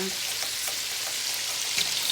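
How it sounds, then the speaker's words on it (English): Food browning in butter in a pan gives a steady, dense sizzle with faint crackles and pops throughout, close and even in loudness, with no talk. "they are browning pretty nicely in the butter"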